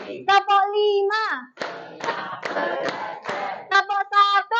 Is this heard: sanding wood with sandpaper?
no